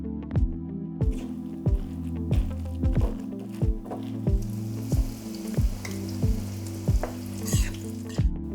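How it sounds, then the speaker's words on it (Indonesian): Corn fritter batter is stirred in a bowl in a steady rhythm of wet, squishy strokes, roughly one a second, close and fairly loud with no voices. "Nah, sekarang saatnya kita akan mencampur semua ingredients ya"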